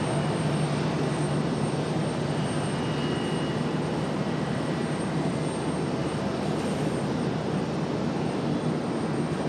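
An Air Canada airliner at Charlotte airport produces a continuous, even engine roar, moderately loud and unchanging across the whole stretch, with no voices over it.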